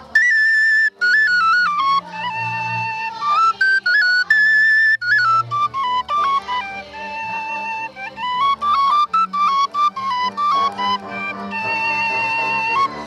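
A six-hole shepherd's whistle made of black elder wood plays a lively folk melody, bright and close, with quick ornamented runs and brief breath pauses, solo without talk.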